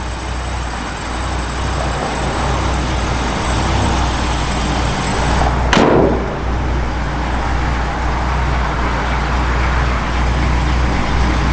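A 1964 Ford Galaxie 500XL convertible engine idles with a steady low rumble, broken by a single sharp burst near the middle, and no voices over it.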